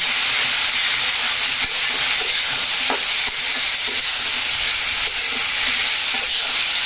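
Vegetables with turmeric fry in a pan over onions in a village kitchen, giving a loud, continuous sizzling hiss with faint occasional stirring clicks and no voices.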